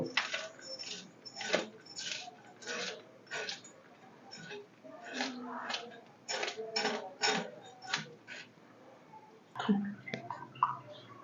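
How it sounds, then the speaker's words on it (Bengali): A knife cuts through hilsa fish in irregular, close knocks and scrapes against a hard surface, with uneven gaps between strokes and a quiet background. "আমি এখন মাছটাকে আগে কাইটে নেব"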